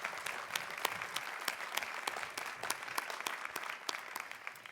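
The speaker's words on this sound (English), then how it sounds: "please join me now in giving another hearty round of applause for all those who" Faint applause at a 2023 commencement ceremony for the graduates' supporters, a distant crowd clapping with a few sharper individual claps standing out, steady throughout.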